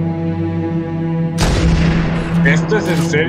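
Sniper rifle fire in Halo CE Anniversary on Legendary difficulty: a steady droning tone gives way to a sudden loud blast and its rumbling tail, with sharper cracks following.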